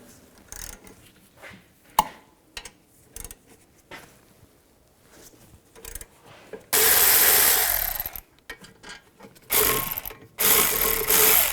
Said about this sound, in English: Use a 15mm socket. Take these two caliper bolts, loosen those up and take those out.